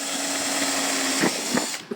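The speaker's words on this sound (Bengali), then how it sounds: "একটা কাঠের উপরে ফুটা করছি" A power drill bores holes into wood while building a four-transistor mono amplifier circuit, a steady close whine that ends in a few short bursts as the bit bites in.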